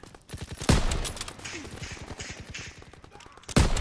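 Submachine gun bursts in a WWII shooter on a London docks map: two sharp loud shots bracket a long rapid stream of evenly spaced automatic fire, with no talk over it.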